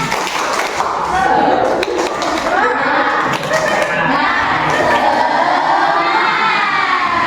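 Children in a classroom-style session perform a rhythmic group clapping chant, loud and close, with their shouting voices and thumping claps blending into a lively crowd din.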